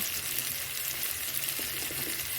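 Onion frying with a pinch of salt in a home-kitchen pan: a steady, soft broadband hiss of sizzling throughout, with faint clinks, no voices.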